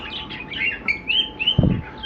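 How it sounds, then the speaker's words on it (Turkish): Amazon finches in a pet shop cage give a quick series of light, high chirps and tweets, close by, with a soft thump near the end. "Aşağıda işpinozlar var. Amazon işpinozlar, rengarenk gökkuşağı."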